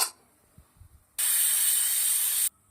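A pressure cooker cooking tindora curry lets out its whistle as a loud, steady hiss of escaping steam lasting over a second, then cutting off abruptly after a few quiet clinks.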